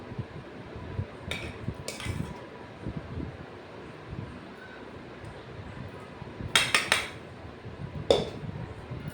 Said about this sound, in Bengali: ভাতটা বেড়ে নিলাম